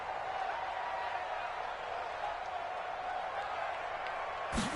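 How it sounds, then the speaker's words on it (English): A stadium crowd in an American football video game gives off a steady distant roar, a broad wash of cheering that holds evenly before a brief swell at the end, with commentary voices over it. "the crowd getting into it as we come up on a big third down"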